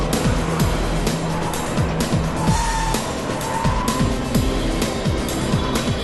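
A Dinan-tuned BMW 335i and an M3 run a slalom course, engines revving up and down in quick rhythmic cycles as tires squeal through each rapid direction change, loud and continuous.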